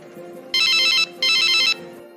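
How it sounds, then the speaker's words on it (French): A FaceTime call rings with two bright electronic tone bursts in quick succession, close and clear over a faint background hum. "Il faut que je les appelle tous en FaceTime."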